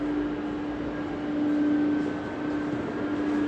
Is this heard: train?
yes